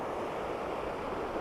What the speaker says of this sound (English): the water returning to the river